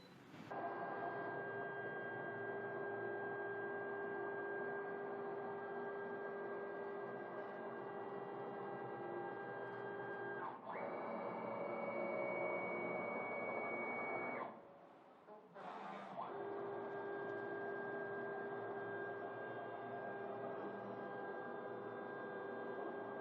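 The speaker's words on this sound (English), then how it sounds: "we go to test print, text, and head status to check the nozzle status" Steady mechanical whir and hum of a t-shirt printer running a nozzle check test print, with tones shifting partway through and a brief dip before the hum resumes, close and fairly quiet.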